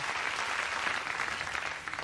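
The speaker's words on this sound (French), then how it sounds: "Allez, on applaudit Gilles." A studio audience on a 1994 television show applauds a synthesizer player, an even, fairly soft wash of many hands clapping that carries on through the full two seconds.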